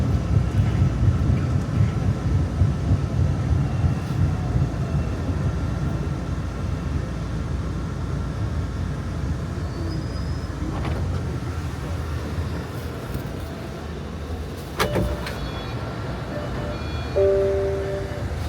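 A Boston MBTA subway train runs toward Forest Hills near Community College station, with a steady, loud low rumble and roar throughout, plus a few faint squeals and clanks near the end.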